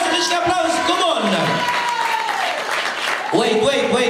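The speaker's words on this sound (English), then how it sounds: "Let's give big applause, big applause, come on!" An audience at a hotel entertainment show in Sousse, Tunisia, applauds steadily throughout, with scattered shouts and a host talking over the clapping.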